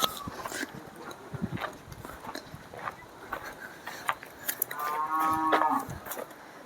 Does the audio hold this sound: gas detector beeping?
no